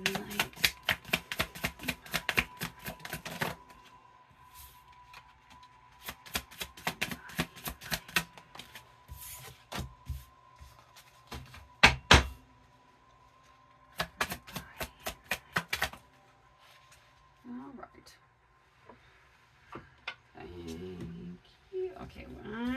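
A deck of cards is shuffled in quick bursts of rapid, crisp riffling clicks, separated by pauses, with a person speaking nearby.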